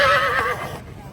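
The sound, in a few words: horse neighing at a horse fair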